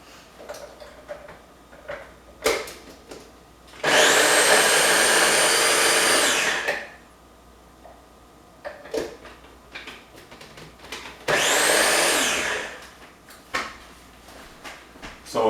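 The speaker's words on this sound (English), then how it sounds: "I'm going to grind it up with my Ninja" A Ninja blender grinds cabbage for coleslaw in two loud, steady whirring bursts of a few seconds each, separated by quieter handling clatter and small knocks.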